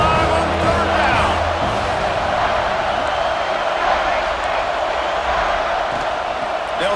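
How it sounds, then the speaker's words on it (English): A dense stadium crowd roars and cheers continuously in EA Sports College Football 26, a loud, steady wash of Buckeye fans on third down with a brief low rumble early on. "The Buckeye crowd alive on third down."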